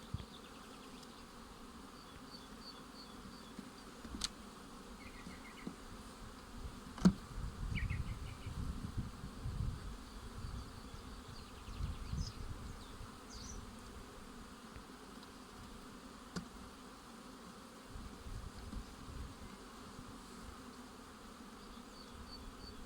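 Bees buzzing around honey frames of an open beehive, a continuous quiet droning hum with individual insects flying close past now and then, plus faint handling knocks, no talk.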